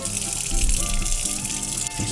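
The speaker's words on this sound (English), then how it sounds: "rinse them up with water" Tap water running over fish being rinsed in a sink, a steady splashing gush close by with faint clatter mixed in.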